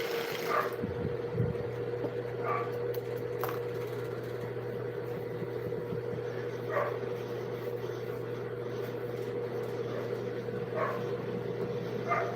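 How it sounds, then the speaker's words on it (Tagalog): Dogs bark in short, widely spaced bursts at a moderate distance, heard over a steady electrical hum and low background noise during a live broadcast; no one speaks. "Maingay ang mga aso."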